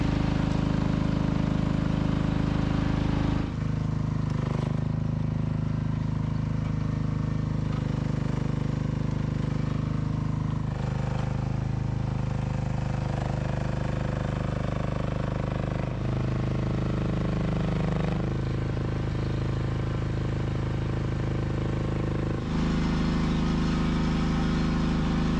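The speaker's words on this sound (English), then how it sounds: "I'm going to sort out the tractor around the back" A tractor engine runs steadily outdoors on a building site where concrete wall forms are being set up, a continuous mid-pitched idle with a few shifts in load and tone across the span, fairly close and with no talk.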